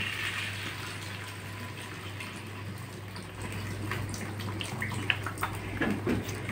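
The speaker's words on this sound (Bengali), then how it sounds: "এবার আমি একটু জল দিয়ে দেবো।" Water pours into a pan of new potatoes sautéed with spices and coriander, a steady gushing splash that turns to bubbling and sputtering as it hits the hot pan.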